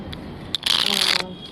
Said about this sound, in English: I'm just going to begin by shuffling the cards